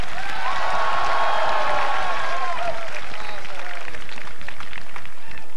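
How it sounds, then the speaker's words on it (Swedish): An outdoor sing-along crowd at Allsång på Skansen cheers and claps, loud and broad at first, then thinning into scattered claps and whoops under a voice that talks over it. "Folkens jubel"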